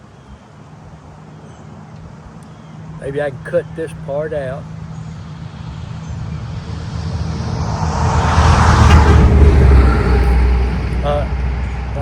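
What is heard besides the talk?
truck driving by outdoors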